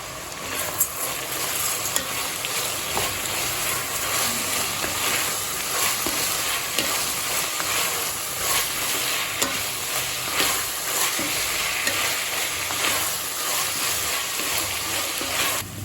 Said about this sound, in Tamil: காய்கறியெல்லாம் சேர்த்துட்டு நல்லா வதக்கியாச்சுங்க.